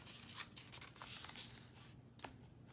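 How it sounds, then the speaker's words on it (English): Quiet papery tearing and rustling as a piece of paper is ripped for a collage in an altered lined journal, with a few soft crisp rips and handling sounds close by. "So we're gonna tear a little bit more off"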